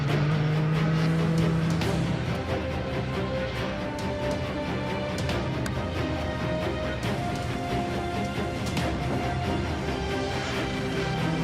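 Engines race steadily throughout in the XLR motorbike video game, a loud continuous roar with shifting pitch and a few sharp impact-like bursts, with no talking.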